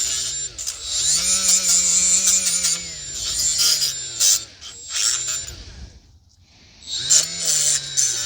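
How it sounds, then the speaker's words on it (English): A die grinder cleans brake caliper clips during front brake service on a 2019 Honda Civic 2.0, giving a steady high whine that rises and falls in bursts, briefly drops out near the end, then resumes. "So you can just clean the clips with the die grinder."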